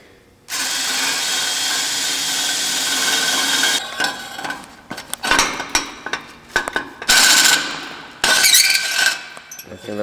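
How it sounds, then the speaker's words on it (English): A power drill bores out the exhaust of a 2009 Yamaha V Star 950 motorcycle: a loud sustained grinding whine, then bursts of drilling that stop and start and are broken by brief pauses. "Let's start drilling."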